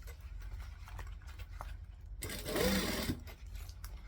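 A sewing machine runs in a short, loud burst while stitching a seam on a coffin-shaped handbag with a thin gusset, preceded and followed by quiet handling noises.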